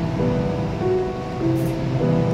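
Vegetables with tomatoes and slit green chillies sizzle and fry in a pan while being stirred, a steady loud hiss with soft scraping and faint clinks close by, no talk.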